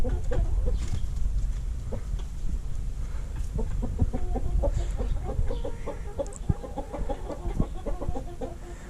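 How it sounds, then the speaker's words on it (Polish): A laying hen clucks repeatedly in short, uneven bursts, fairly close, over a steady low outdoor rumble. "na zwiady przyszła jakaś kura"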